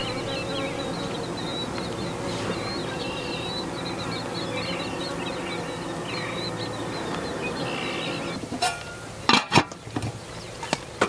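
Honeybees hum steadily as a hive is split into two new colonies, a dense continuous drone with a few higher whines, ending in several sharp knocks and clatters of hive equipment.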